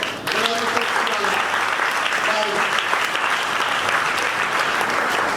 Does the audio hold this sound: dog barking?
no